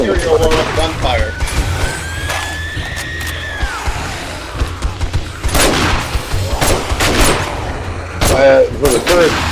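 Turret gunfire rattles in 7 Days to Die, clustered shots and thuds firing in bursts amid game noise, with a whistling tone sweeping early on, loud and near.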